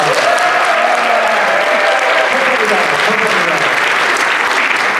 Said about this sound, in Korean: 전국으로 팬들에 한일의 행사를 큰 박수로 시작하겠습니다.